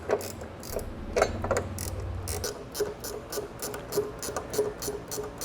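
A hand ratchet clicks in quick bursts as it tightens nuts onto running board bracket studs on a 2014 Jeep, the sharp ratcheting strokes repeating close by with a low rumble underneath.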